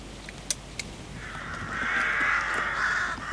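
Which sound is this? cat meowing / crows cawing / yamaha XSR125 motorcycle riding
crows cawing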